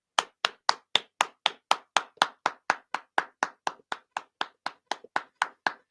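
Slow, deliberate golf clap from a single person on a football fan show, about two dozen crisp, isolated hand claps at an even tempo, close and clear with no talk.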